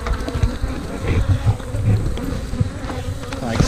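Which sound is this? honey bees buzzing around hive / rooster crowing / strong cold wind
honey bees buzzing around hive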